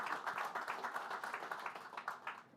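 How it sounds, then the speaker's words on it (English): Audience at a celebration event applauding, a quiet, distant patter of many hands clapping in a fairly steady rhythm for a couple of seconds. "Give yourselves a round of applause."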